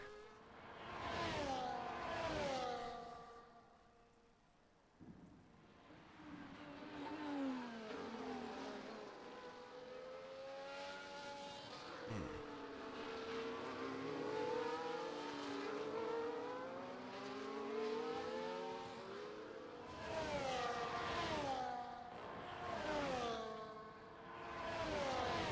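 Race cars at the Foro Sol circuit in a racing game, engines whining up and down through gear changes as several cars pass by, some loud close passes with fainter ones between, no talk.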